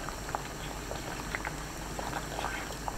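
Broth for a Korean mugwort soup (ssukguk) with kelp boils steadily in a pot, a continuous close bubbling with small popping bursts and no voices.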